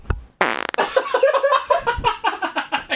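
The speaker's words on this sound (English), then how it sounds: "are you trying to fart right now?" A long, loud, sputtering fart erupts close up and rattles on in a rapid series of wet pulses, with a brief laugh at the start.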